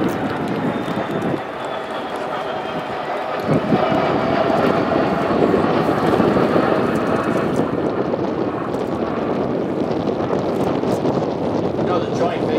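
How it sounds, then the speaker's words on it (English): KC-135 Stratotanker with four CFM56 engines making an airshow flyover at Joint Base MDL, a loud, steady broadband jet roar that builds and holds for over ten seconds, with wind buffeting the microphone. "KC-135 Stratotanker, 4 CFM56 engines on the KC-135."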